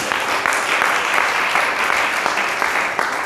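A church congregation applauding during a Sunday testimony service, dense sustained clapping from many hands, loud and close, with a faint murmur of voices beneath.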